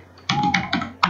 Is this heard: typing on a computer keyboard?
yes